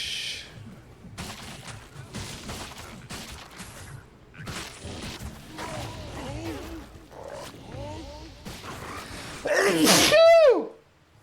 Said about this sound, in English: Always pause when you sneeze if you're offline.